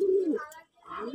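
Pigeons give a couple of close, low coos separated by a brief silence, short and fairly loud.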